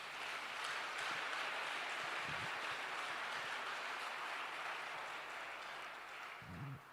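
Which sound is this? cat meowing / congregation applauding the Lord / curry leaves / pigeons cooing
congregation applauding the Lord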